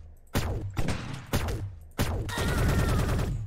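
Gunfire in the egg-themed shooter game Shell Shockers: three sharp shots spaced about half a second apart, then a longer burst of rapid fire, loud and close.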